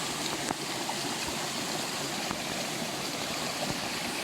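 A mountain stream at a water source on a hike rushes in a steady, broadband hiss that stays constant and fairly close throughout, with no talking.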